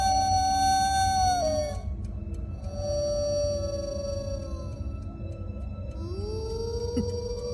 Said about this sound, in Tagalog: na alulong ng aso.